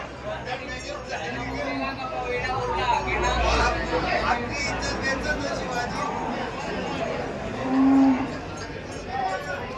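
Cows at a cattle market in Dhule, several moos rising over a steady murmur of crowd chatter, with people talking nearby throughout.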